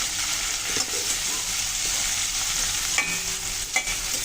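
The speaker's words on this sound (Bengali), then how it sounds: "কাঁচা লঙ্কা দিয়ে হালকা নেড়ে চেড়ে নিলাম।" Green chillies and onions frying in oil, stirred in a pan: a steady close sizzle with light scraping stirs throughout, a couple of sharper clinks near the end, no talking.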